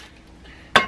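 A metal rice cooker inner pot insert gives one sharp, bright clank near the end as it is handled, close and loud after a stretch of quiet room tone.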